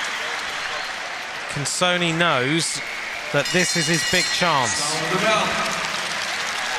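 A crowd applauds and cheers at the 2018 UCI Track Cycling World Championships during the men's omnium elimination race, a constant broad roar under a commentator's running talk.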